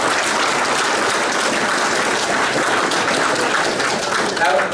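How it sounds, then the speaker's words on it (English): An audience at an evening public meeting breaks into steady applause, a dense sustained patter of clapping hands that holds at an even level throughout, with voices faintly mixed in. "clapping's already started"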